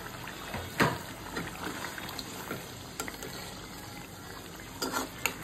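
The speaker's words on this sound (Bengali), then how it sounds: "আমি এখন শোল মাছের টুকরোগুলো দিয়ে দিচ্ছি" Snakehead fish pieces sizzle and splutter in a pan of cooked-down spice masala, with a steady bubbling hiss broken by sharper pops and a few louder spits.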